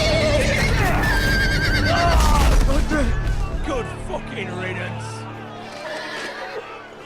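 Horses whinny and neigh in a Game of Thrones Telltale video game scene, mixed with loud busy game sounds and voices.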